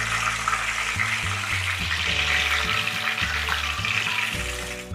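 Oil sizzling steadily in a pan while frying for homemade chicken majboos, a continuous hiss with low bubbling texture and faint background hum throughout, no talking.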